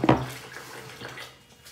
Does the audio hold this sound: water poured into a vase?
yes